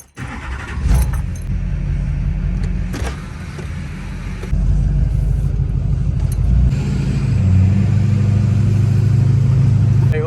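Interior of a 2005 Chevy Duramax diesel pickup driving on newly installed slotted and dotted brake rotors with new pads: a steady low engine and road drone rises after pulling off, with a few rattling clicks near the start.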